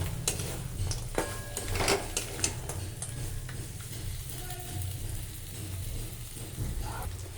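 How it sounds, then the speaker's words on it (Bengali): Garlic and spice masala fry in a pan while being stirred, with a soft, low sizzle under repeated metal spoon scrapes and clinks against the pan, the clinks busiest in the first few seconds. "এবার এটাকে আমি লাল করে ভেজে নেব"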